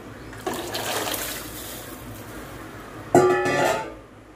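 Tamarind water being poured into a pot of rasam made with tomatoes and stir-fried plantain stem, a splashing liquid pour in two bursts, close and fairly loud with no talk.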